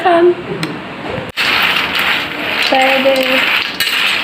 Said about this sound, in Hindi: तो चलो बर्तन ला मांझ